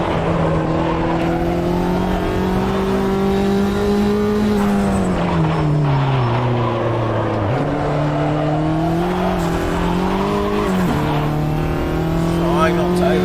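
Race car pulling out of the pits in a sim racing game, its engine droning steadily loud with pitch rising and dipping through gear changes and lifts across the whole stretch.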